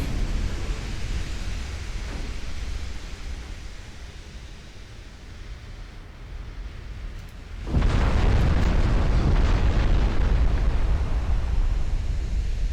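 Artillery fire and explosions in a war video game's British campaign build from a dense, rumbling roar into a louder, sustained wash of blasts and booms.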